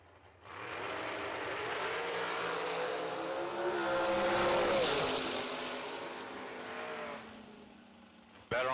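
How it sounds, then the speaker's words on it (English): Two Race Tech-built hot rods at a drag strip launch and scream away together, a loud sustained engine roar rising in pitch through the run, peaking mid-clip, then fading before a sharp burst near the end. "Couple of Race Tech built hot rods."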